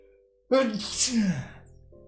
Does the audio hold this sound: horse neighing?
no